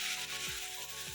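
A coconut ladoo mixture being stirred and fried in a pan over medium-low heat gives a steady soft sizzle with rhythmic scraping rubs of the spoon, close and alone.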